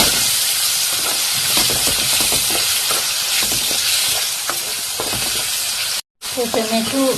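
Tomatoes with salt, turmeric and chili powder sizzle and fry steadily in a pan for an eggplant dish, a continuous loud hiss with stirring scrapes, briefly cutting out near the end before resuming.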